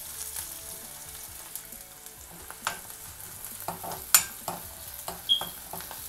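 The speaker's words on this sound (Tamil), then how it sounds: "இப்போ இதை நம்ம நல்லா வதக்கிடலாம்." Onion and garlic sautéing in a pan for a Tamil fish curry, a soft steady sizzle broken by sharp spoon scrapes and clinks against the pan, with no talking.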